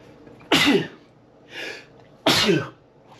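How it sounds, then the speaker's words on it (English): Someone sneezes twice at close range, with a softer breathy intake between the two loud bursts. "Or sneezing."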